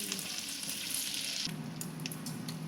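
Bacon frying in a pan, a steady close hiss and crackle of sizzling fat that continues without pause, with a slight shift in texture partway through.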